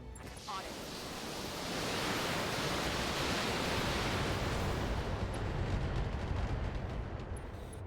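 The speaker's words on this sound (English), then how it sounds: "So let's just open with a missile barrage!" Missile barrage in BattleTech, a broad roaring rush of launches and impacts that swells after a moment and holds steady as a dense rumbling wash for several seconds.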